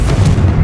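A Confringo fire spell blasts in Hogwarts Legacy, a short, loud, booming burst with a heavy low-end thump.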